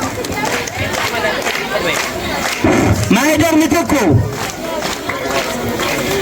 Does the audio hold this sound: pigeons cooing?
no